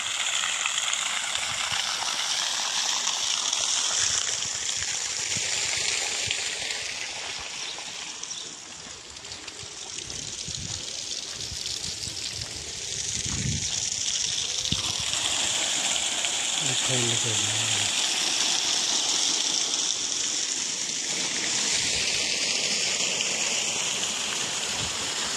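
Water rushes steadily into a tank in Saudi Arabia, a continuous hissing, gushing flow that stays loud throughout, dipping briefly midway before surging again.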